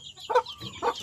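Chicks in a small backyard chicken coop, with two short bursts of cheeping and clucking close by over faint background noise.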